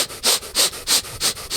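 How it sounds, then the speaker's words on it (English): Rapid rhythmic breathing in and out through the nose as a breathing exercise, about five quick sniffing inhale-exhale pulses close to the microphone with an even, fast rhythm. "breathe in and out of your nose. You can do it 40 to 50 times"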